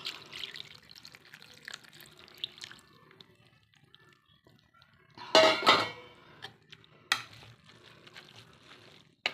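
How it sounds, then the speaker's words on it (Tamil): Coconut milk is poured into a pot in a brief, bright liquid splash. Quiet clinks of utensils and dishes come before and after, with no one talking. "இப்போ நான் இதில் இந்த தேங்காய் பாலை வந்து சேர்க்குறேன்"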